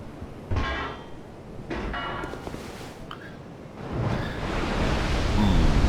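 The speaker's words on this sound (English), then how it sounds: "Ooh, something's rumbling in the water," Deep rumbling and churning water in the Dark Souls II video game rises in waves, swelling louder toward the end with a hissing, surf-like wash.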